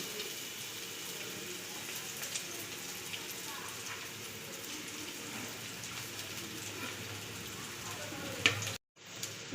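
Carrots and beans fry in hot oil in a pan, a steady, quiet sizzle with continuous hiss and small crackles, heard alone until a sudden cut near the end.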